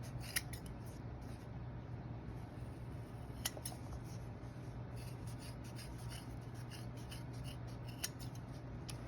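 Scissors snipping through arch support material for a homemade metatarsal support, giving sparse, crisp cuts over a steady low background hum, close by with no talking.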